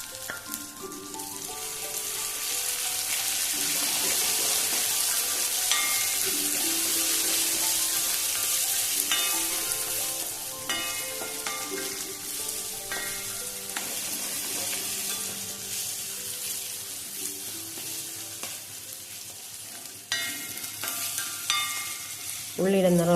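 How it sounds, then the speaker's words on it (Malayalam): Shallots and crushed garlic fry steadily for a curry, a dense continuous sizzle with occasional spoon scrapes and stirring, close and fairly loud throughout, with no talking. "ചെറിയ ഉള്ളി നല്ലോണം മൂത്ത് കിട്ടണം"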